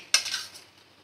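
Washed, soaked flattened rice lands in a pan with a single sharp metallic clatter and a brief hissing scrape that fades within a second, close and alone.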